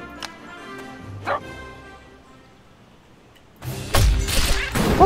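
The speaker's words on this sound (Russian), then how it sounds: "Щенята доскулились." Puppies whine and bark in the video game Cat Quest II, a few short yelps early on, then a loud burst of dense, close yapping and crashing sounds in the last second and a half.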